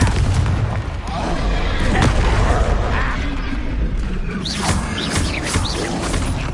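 A Confringo fire spell explodes in the Hogwarts Legacy video game as a loud, booming blast over a dense bed of game combat effects, with further bursts and whooshes following.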